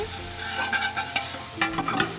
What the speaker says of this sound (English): love the sound of that garlic sizzle